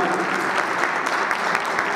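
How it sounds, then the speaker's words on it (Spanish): An audience gives a strong round of applause to welcome a speaker at a talk in Mexico, dense continuous clapping, steady and fairly loud. "damos un fuerte aplauso para recibirlo"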